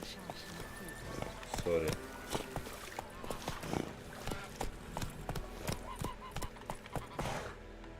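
Roach, Geralt's horse in The Witcher 3 (PC remaster), runs with rhythmic hoof clip-clops under game music and ambience, while someone talks briefly over it.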